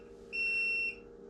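A homebrewing timer sounds its sparge water reminder alarm as a single sustained electronic beep of about half a second, clear and fairly loud over a steady low background hum.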